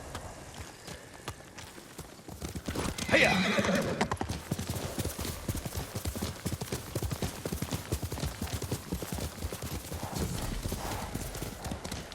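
A horse in the Ghost of Tsushima video game gallops with a steady drumming clip-clop and lets out a loud neigh partway through, hoofbeats continuing close and even to the end.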